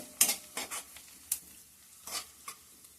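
Onion frying in a pan and being stirred, with a faint sizzle under several scraping strokes of a spoon against the metal, close and fairly quiet, no talk.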